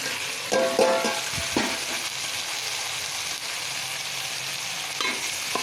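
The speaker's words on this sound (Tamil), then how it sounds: "வெங்காயம் போட்டு நல்லா வதங்கினதுக்கப்புறம் தக்காளி சேர்த்துக்கலாம்." Onions and tomatoes sauté in oil in a pan for an egg omelette curry, giving a steady, loud sizzle. A few knocks from the spatula stir in near the start and end.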